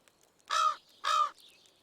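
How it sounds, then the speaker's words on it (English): Two loud, harsh crow caws from the Stardew Valley video game ring out close together, each about a quarter second long, followed by a faint trailing call. "Darn crows."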